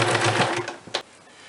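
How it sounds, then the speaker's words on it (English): A sewing machine stitches a double-folded strip of old shirt fabric for a button strip, a short rapid rattling burst that stops, followed by a single click. "Sew that together."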